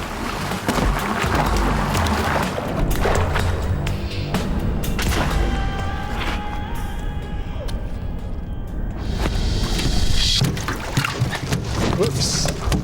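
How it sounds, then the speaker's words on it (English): Jumping silver carp bang and thud against a boat on a river, with repeated knocks, splashes and sloshing water up close, under a steady hum of motor and wind. "I actually feel the boat being buffeted as they're banging into it."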